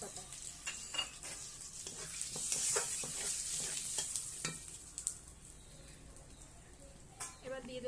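Cumin seeds and bay leaves sizzle in hot oil for an egg curry, a soft, steady crackle broken by scattered clicks and scrapes of stirring.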